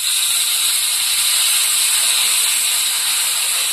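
Spice paste water poured into a hot pan for a village-style laufoli fish curry gives a loud, steady, unbroken sizzling hiss throughout.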